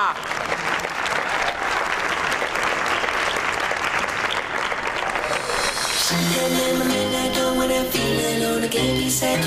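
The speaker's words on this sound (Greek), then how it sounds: "Ας τις υποδεχτούμε με ένα χειροκρότημα!" Dense studio audience applause fills the first six seconds of a Greek TV drama scene, then loud music swells in and plays over the tail of the clapping.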